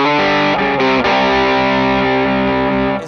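An electric guitar played through a Tone City Big Rumble overdrive pedal rings out in loud, sustained distorted chords that shift a few times before fading.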